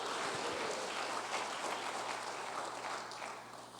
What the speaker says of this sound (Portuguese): As palmas para Ele, diga glória a Deus